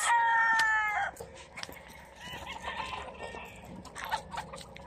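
A rooster crows loudly at the start, followed by fainter clucking and other fowl calls in the background, at a gamefowl farm in Danao City.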